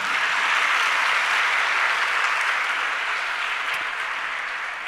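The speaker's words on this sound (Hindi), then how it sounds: "अब देखो ताली भी बज रही है" An audience at a Jain sermon breaks into sustained applause, a dense, even clatter of many hands clapping together that stays loud throughout and eases slightly toward the end, with no talking over it.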